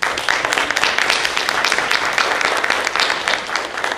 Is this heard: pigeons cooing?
no